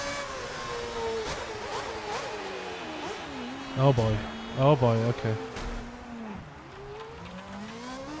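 A Lotus Formula One car engine in a racing video game, set in Bahrain in 2010, drones and revs continuously through a bad race start, with someone talking over it.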